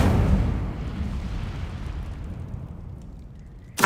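A burst from the Incendio fire spell in Hogwarts Legacy on PS5: a loud, booming whoosh that erupts at the start and slowly rumbles and fades away, with a brief sharp hit at the very end.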